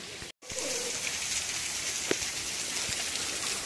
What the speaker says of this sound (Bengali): এটা সেই ঝর্ণার জলেরই আওয়াজ।